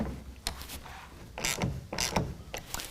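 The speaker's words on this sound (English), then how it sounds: "we're going to go ahead and tighten everything down using a 1/2 inch wrench or ratchet" A ratchet or half-inch wrench snugs down the rail clamps of a Gator SR1 Pro roll-up tonneau cover on a 2019 Chevy GMC 1500, a few quiet close clicking and creaking bursts spaced irregularly, with no talking.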